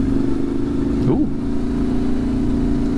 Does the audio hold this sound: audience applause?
no